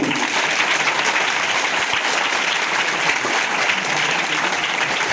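Children and teachers at a school applaud together in a steady, dense round of clapping that holds evenly for several seconds, fairly close and with no voices standing out.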